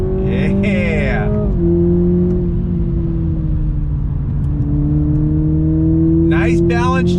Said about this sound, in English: I'm getting some pops from the exhaust out back.